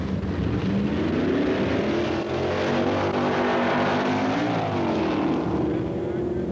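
Stock drag racers, a Ram Chargers Dodge against a Chevy at the 1965 AHRA Winternationals, Bee Line Dragway, Arizona, a loud sustained engine roar with rising and falling pitch, heard under a commentator's voice.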